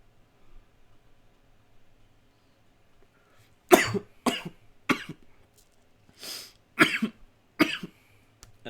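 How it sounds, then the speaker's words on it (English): Harsh coughing fit after a hit of smoke pulled through a filter, about six loud, broad coughs in uneven bursts, close to the mic, following a quiet stretch with no talking. "That shit makes you cough."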